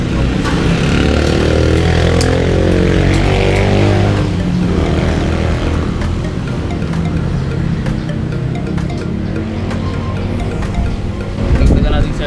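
A Yamaha R3 V1 motorcycle engine with a quick-throttle upgrade, revving and then idling up close, loud throughout, with a sharp blip near the end.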